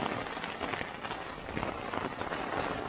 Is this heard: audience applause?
no